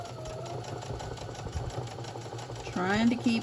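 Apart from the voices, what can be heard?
sewing machine stitching a mug rug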